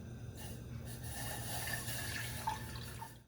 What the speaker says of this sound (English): You must now add the magic milk into your cauldron